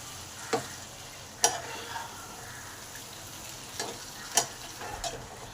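Ground sesame and peanut paste frying in a pan for jhinge posto, a soft steady sizzle with a few distinct scraping clinks of stirring, faint and close, with no talking.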